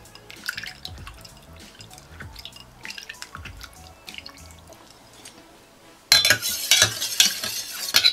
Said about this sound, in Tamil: இன்னும் கொஞ்சம் தண்ணி ஊற்றி நல்லா